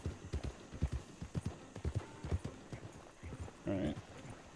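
Rhythmic clip-clop of horse hooves in Red Dead Redemption 2, a steady run of close, moderately loud hoofbeats, followed near the end by a short neigh.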